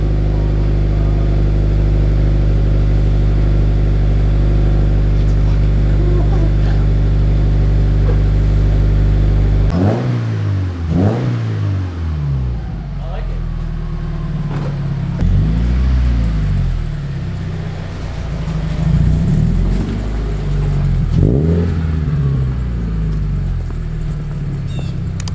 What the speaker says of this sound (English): Rev it. That's very deep.